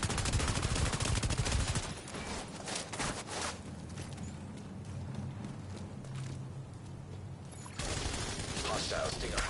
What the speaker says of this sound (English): I don't know what he's shooting